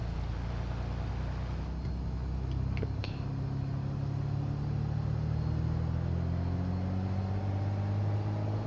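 A Piper PA28 Arrow-IV taxiing in Microsoft Flight Simulator 2020, a steady low engine drone and rumble that slowly rises in pitch, close and continuous, with a couple of faint clicks early on and no talk.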